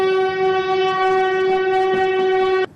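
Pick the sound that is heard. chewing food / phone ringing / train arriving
train arriving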